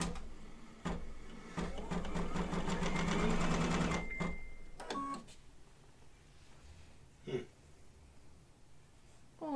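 Embroidery sewing machine stitching an in-the-hoop mug rug, a fast steady mechanical whir for about four seconds, then stopping, followed by a few faint clicks and knocks.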